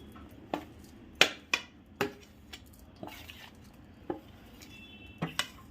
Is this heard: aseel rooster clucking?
no